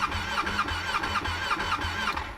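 Ducati 959 Panigale motorcycle engine with a steady, pulsing mid-range throb that repeats rhythmically, loud and close, with no voices.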